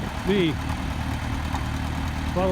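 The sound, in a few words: tractor engine idling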